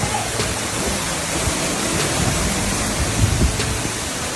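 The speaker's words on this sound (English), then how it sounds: "now that's a storm" A heavy storm in Arizona brings dense, loud rain with strong winds that topple trees, a steady roaring wash with occasional gusts and thumps, heard up close without talk.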